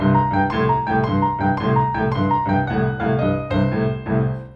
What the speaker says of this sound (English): The first thing you can do is use the circle technique